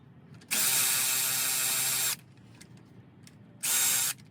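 A power ratchet spins bolts out of an oil pan in two bursts, a long whirring run followed by a shorter one, with faint clicks of handling in the quiet between.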